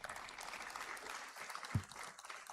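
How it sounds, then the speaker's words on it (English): An audience at an awards ceremony on a Hyderabad campus claps in a steady, moderately loud round of applause that carries on through the whole moment, with one louder thump near the end. "A huge round of applause for him, please."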